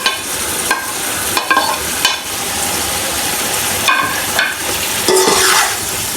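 Peas, carrots, tomatoes and green chillies frying for Chinese pulao, a steady loud sizzle with repeated spoon stirs and scrapes against the pot, no voices.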